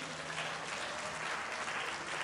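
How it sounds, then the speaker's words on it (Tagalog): Church congregation applauding together, a sustained wash of many hands clapping that sounds soft and somewhat distant, holding steady without pause. "Palakpak sa Panginoon."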